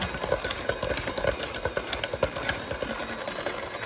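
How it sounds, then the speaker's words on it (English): An electric hand mixer beats cake batter with a steady, close mechanical whir and a rapid pulsing rattle, heard alone without talk. "I prefer the hand mixer because I feel like I have more control over things versus the KitchenAid"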